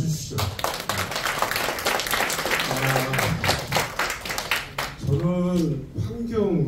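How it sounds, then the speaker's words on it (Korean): Audience applause at a talk by an environmental artist, steady clapping from a crowd lasting several seconds with a voice speaking over it near the end. "박수 한번 좀 쳐주시죠."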